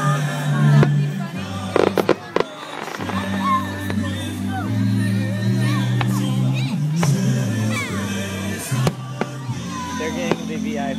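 Fireworks bursting at a 2011 Sherman display, a steady run of sharp booms and crackles, some close and loud, over a busy crowd murmur, with people talking throughout.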